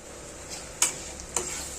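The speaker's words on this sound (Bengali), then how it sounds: "এই ফোড়নের মধ্যে গুঁড়ো মশলাগুলো দিয়ে দেব, দিয়ে এটাকে ভালো করে নাড়াচাড়া করে নেব" Ground spices stirred in a hot tempering for Gobindobhog rice and sona moong dal khichuri: a faint, steady sizzle broken by two sharp scraping clicks from the spoon, with no one talking.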